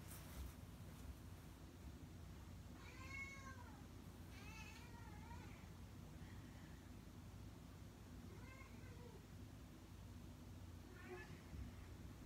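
A cat meows several times, drawn-out complaining cries spaced apart over steady wind noise, fairly faint and without any talking.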